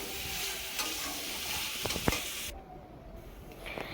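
Potatoes stirred and sautéed with chicken curry masala in a pan, giving a dense, loud sizzle with occasional spatula clinks and scrapes, then easing into a softer, steamier hiss toward the end.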